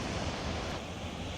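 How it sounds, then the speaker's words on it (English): Steady broadband rush of a waterfall flowing off Mount Hood on a foggy hike along the Pacific Crest Trail, constant and fairly distant with no voices. "This waterfall coming directly off of Mount Hood."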